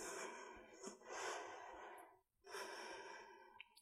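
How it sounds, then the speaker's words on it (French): Long, slow breaths drawn in and let out during a seated yoga stretch, two broad airy swells split by a brief pause, close and soft with no talking. "Quelques longues respirations."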